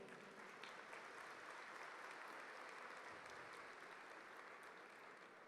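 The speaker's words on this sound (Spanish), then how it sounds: "Vamos a darle un aplauso a eso." Audience applause fills the whole stretch, a dense, even clatter of many hands clapping at a steady level, fairly distant with no talk over it.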